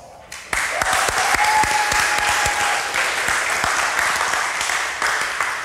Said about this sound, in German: Das ist jetzt dein Applaus.